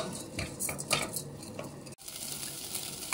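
Rice toasting in a hot pot for a risotto with violina squash and chanterelle mushrooms, with a steady dry sizzle and repeated scraping and clinking of a spoon against the pot, broken by a brief pause.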